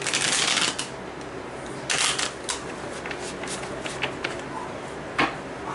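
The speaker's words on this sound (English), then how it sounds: "I don't like messy shuffles." Playing cards being shuffled in several quick riffling bursts, close and crisp, with quieter handling sounds between them.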